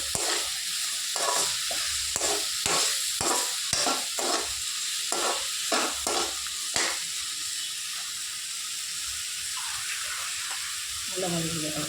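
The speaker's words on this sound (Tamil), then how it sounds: "கொஞ்சம் நல்லா வதங்கட்டும்" Sliced onions for onion chutney sauté in a pan, a soft continuous sizzle broken by a quick run of rhythmic stirring scrapes that then settle into quieter frying.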